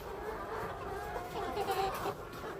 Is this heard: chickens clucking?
yes